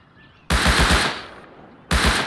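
Gunfire in the survival game Rust: a rapid burst of four or five loud, close shots, a pause, then another sharp volley starting near the end.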